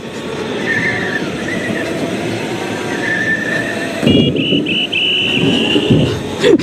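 A go-kart's high steady electronic horn tone blares in short bursts and then a long hold, over a constant rumbling engine-like drone.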